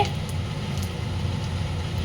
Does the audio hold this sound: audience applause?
no